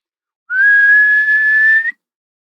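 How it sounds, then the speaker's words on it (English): A single sustained whistled tone, steady in pitch with a slight rise at the end, lasting about a second and a half, clear and close. "I'm not great at whistling."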